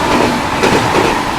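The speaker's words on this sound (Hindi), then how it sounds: "और यहाँ पे हमें ओवरटेक करने आ रही है हावड़ा से चल के मुंबई CST को जाने वाली एक साप्ताहिक सुपरफास्ट एक्सप्रेस।" A weekly superfast express from Howrah to Mumbai CST rushes past while overtaking a Hatia–Pune superfast express, a loud, close, continuous roar of wheels and rattling coaches heard from inside a sleeper carriage.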